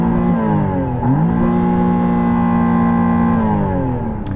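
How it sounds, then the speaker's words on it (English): A McLaren Artura engine revs up, its pitch climbing, briefly dipping, then holding a loud, sustained high-rev drone close by before easing off, with no talking over it. "I'm going to rev up this McLaren."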